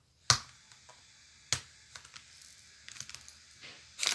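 A plastic package of animal-shaped lip balm crackles and clicks as someone struggles to open it. Sharp snaps and small taps come in a few separate bursts, close and fairly quiet, with no talking.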